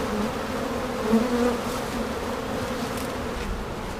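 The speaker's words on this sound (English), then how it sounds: "Get all the bees off of that." A steady, close swarm of honey bees buzzing, a dense drone that holds level throughout with a brief swell midway.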